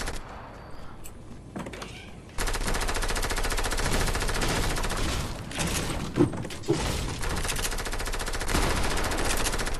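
Rapid, sustained minigun fire in Fortnite rattles continuously at close range, growing louder after a brief quieter start with a couple of sharper bursts mid-stream, and no talk over it.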